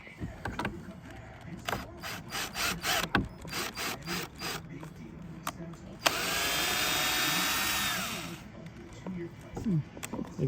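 A power drill drives into wood during a DIY desk build, one steady two-second whine standing out among sharp clicks, knocks and close talk.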